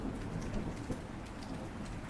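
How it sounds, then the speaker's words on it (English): Rain falls steadily outdoors in a quiet, continuous patter of raindrops, soft and fairly distant, with no voices. "It's still raining right now outside. So if you're hearing raindrops and thunder,"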